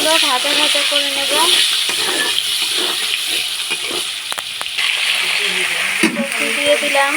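Potatoes hiss and crackle in hot oil with cumin in a pan, the frying steady throughout while a spoon stirs and scrapes, and a voice speaks over it.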